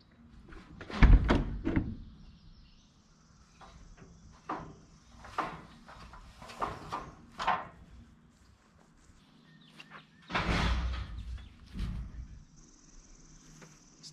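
The door on a DIY motorcycle trailer deck is worked by hand, giving a series of scattered thunks and knocks with a few heavier bangs and some footsteps, fairly close, with crickets faintly in the background.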